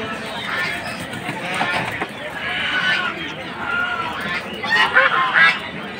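Ducks and other fowl honk and quack at a crowded poultry and pigeon market in Fatullah, with repeated close calls rising above a constant murmur of people talking.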